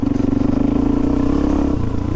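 Suzuki DRZ400 dirt bike running steadily off-road over slick, ledgy backyard terrain, a loud close engine drone with a slight clattery texture, no talk.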